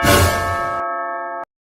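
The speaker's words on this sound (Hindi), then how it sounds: "कितना घंटी बजाएगा" A doorbell chimes once, loud and close, with a bright struck onset that rings on as a steady metallic tone before cutting off abruptly.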